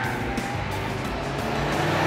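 A 2020 Audi RS 3 Sportback's turbocharged engine pulls steadily around a race track, a constant loud drone with gear-related pitch shifts and a faint hint of tire noise, no voices over it.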